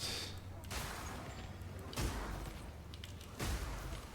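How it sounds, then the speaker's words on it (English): Breach explosions chain in Path of Exile 2: three sharp blasts land at regular intervals, each a sudden thump with a decaying crackle, fairly quiet overall. "these explosions can actually chain, like along the border of the breach"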